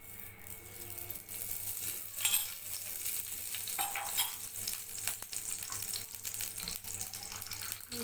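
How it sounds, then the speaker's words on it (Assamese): Ghee heating in a hot kadai for Assamese payakh, a soft continuous sizzle and hiss with faint scraping and some watery splashing, fairly quiet, with no voices. "আমি এতিয়া কেৰাহী এখন গৰম কৰি ইয়াতে ঘি এচামুচ দিম।"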